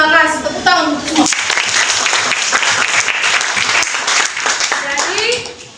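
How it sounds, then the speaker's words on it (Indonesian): A class of students claps together during a history lesson, a burst of dense applause that runs for several seconds after a teacher's voice and fades as she starts speaking again. "Tepuk tangan untuk semua."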